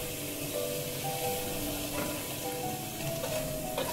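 Soy sauce poured around the edge of a wok over low heat, where dry-fried green beans sizzle in a steady, fairly quiet hiss with faint stirring, no talking.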